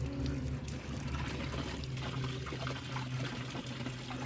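Water is poured steadily out of a container at home during a summer cleanup, a continuous close splashing flow with no talk over it.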